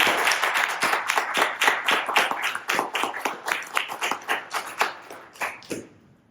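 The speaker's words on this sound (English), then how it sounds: "I want to give you a big round of applause" Small audience at a public speaking training session claps in distinct, fairly quick beats, a few pairs of hands clearly separable, steady for several seconds before thinning out and stopping.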